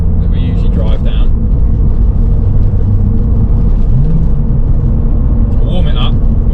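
A Porsche 996 Turbo cruises on a road, its engine and tyre rumble a loud, constant low drone from inside the cabin, with someone talking over it throughout.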